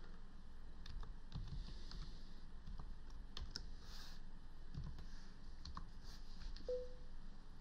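Sparse, faint keystroke clicks from a computer keyboard tapped irregularly over a steady background hum, with no voices.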